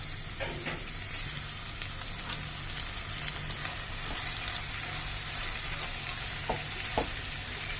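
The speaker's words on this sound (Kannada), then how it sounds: "ಈಗ ಚಿಕ್ಕದಾಗಿ ಹೆಚ್ಚಿರೋ ಮಶ್ರೂಮ್ನ, ನಮ್ಮ ಆಯಿಸ್ಟರ್ ಮಶ್ರೂಮ್ನ ವಾಶ್ ಮಾಡಿ ತೆಗೆದಿಟ್ಕೊಂಡಿರೋದನ್ನ ಹಾಕಿ ಬಾಡಿಸ್ಬೇಕು" Chopped, washed oyster mushrooms sautéing in a pan, giving a steady close sizzle and frying hiss with a few soft stirring clicks and scrapes, no talk.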